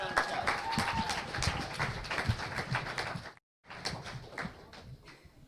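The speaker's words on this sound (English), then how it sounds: "Yeah, one more round of applause." A conference audience applauds in a busy, uneven patter of claps with a brief dropout midway, resuming until the end, with some voices mixed in.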